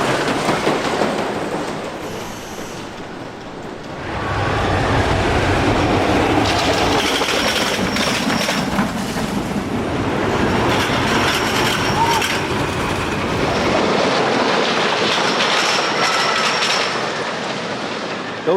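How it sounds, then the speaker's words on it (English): The Big Dipper, a 1923 wooden roller coaster at Blackpool Pleasure Beach, rolls its train over anti-rollback devices on the crest of a hill, giving a loud, continuous rumbling clatter that swells and stays sustained throughout. "there will be like a couple of anti-rollbacks at the top or on the crest of the hills. And as the train goes over them,"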